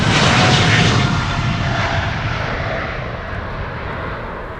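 A Boeing 777-300 departs from the Polderbaan runway at Amsterdam Schiphol in light rain, its engines producing a loud, broad jet roar that slowly fades as it climbs away, with no voices.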